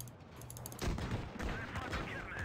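Tank cannon fire in World of Tanks Blitz: one sharp, loud blast hits about a third of the way in, followed by a rumbling, crackling battle din that carries on to the end.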